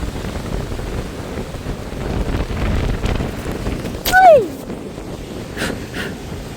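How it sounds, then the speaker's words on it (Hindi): Strong wind gusts across an Oman beach with sea waves rolling in, a loud continuous rumble on the microphone, briefly joined by a close voice exclaiming over it. "क्या भाई, इतनी तेज हवा है,"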